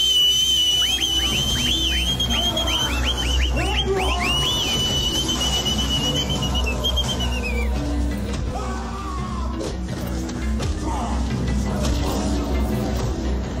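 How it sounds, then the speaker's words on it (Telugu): A person whistles in a comedy scene, with a sustained high whistle tone and bending, warbling pitches in the first half, amid crowd noise, yells and background music. "మీరేమనుకోనంటే ప్లీజ్ ఒక్కసారి విజిలేసుకోవచ్చా?"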